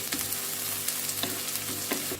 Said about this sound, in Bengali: পেঁয়াজগুলি আমার ভাজা ভাজা হয়ে আসছে